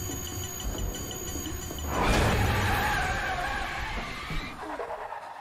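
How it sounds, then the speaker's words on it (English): Tires squeal in a car skid that swells to a loud, harsh screech midway, then fades out with some rattling, heard alone without talk. "Like somebody hit Michael with a car."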